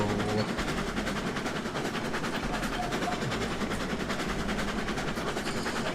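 Steam train in Railroads Online hauled slowly uphill by its engine: steady low rumble and rolling rail noise, loud and continuous, with a faint rhythmic chuffing texture throughout.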